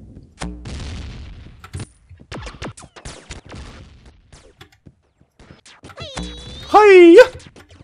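Gunfire in the PC shooter No Escape comes as sharp, scattered shots and short bursts, followed by a rising and falling electronic tone near the end, with someone talking between the shots.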